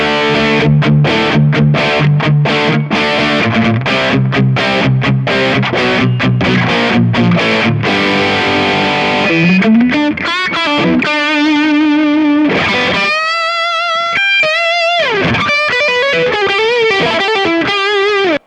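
Loud distorted electric guitar through a Kemper Profiling Amp playing chords, then shifting to sustained single notes and bends with a fuzzy, saturated amp tone throughout.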